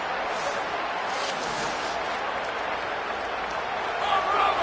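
Dense football stadium crowd roaring and applauding in a steady, sustained wash of noise at a big moment in the game, with no distinct voices rising above it.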